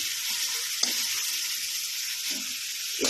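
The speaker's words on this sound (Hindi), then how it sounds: "चिकन को आपने अच्छा सा फ्राई कर लेना है।" Chicken pieces frying with garlic ginger paste sizzle loudly and steadily in a pan, with a few brief stirring scrapes and no talking.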